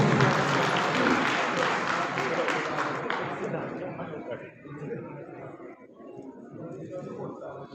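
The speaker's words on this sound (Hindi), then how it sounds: "तो एक बार फिर जो बहुत से तालियों से भाई साहब का स्वागत करेंगे आपको।" Crowd applause welcoming a politician at a rally in Haryana: a thick, loud wall of clapping that gradually thins out, with voices and chatter continuing as it fades.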